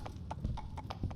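Horse hooves clip-clopping in a video game, a steady rhythm of about five distinct hoofbeats at a moderate pace, fairly close and unaccompanied by talk.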